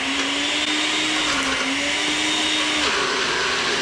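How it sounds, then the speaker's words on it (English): NutriBullet blender pureeing roasted garlic with oil, a loud constant high-pitched motor whine with a slight dip in pitch as it is shaken, no talking. "And I shake my NutriBullet."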